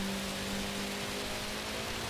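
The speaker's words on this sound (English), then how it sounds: "It's the heaviest rain we've ever had at this race." Heavy rain pours steadily in Gran Turismo 7 during a Le Mans race in a 1992 Honda NSX with an engine swap, a dense continuous hiss with a faint low engine hum beneath and no talking.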